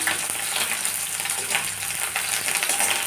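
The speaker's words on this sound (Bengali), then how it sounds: "এর মধ্যে তেলের মধ্যে দিয়ে দিলাম করলাগুলো করলাগুলো নেড়ে ভাজতে লাগলাম" Bitter gourd pieces fry in hot oil while being stirred, a dense, steady sizzle that stays loud and close throughout with faint scraping underneath.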